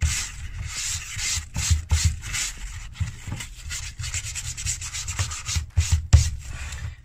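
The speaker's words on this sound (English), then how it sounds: "Let's give it a nice wee sand and then we'll apply the dye" Sandpaper rubs over the leather of a Loake 250B shoe before dyeing, a close scratchy back-and-forth rasp in irregular strokes with brief pauses, alone with no talk.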